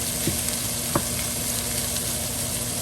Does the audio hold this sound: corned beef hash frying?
yes